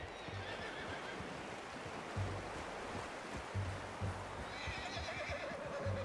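A horse in the Red Dead Redemption 2 video game whinnies and snorts over steady ambient outdoor noise, with occasional hoof clops, fairly close and without talk.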